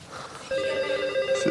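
A telephone rings with a steady electronic tone starting partway through, loud and close, with faint room noise before it on a French reality TV set.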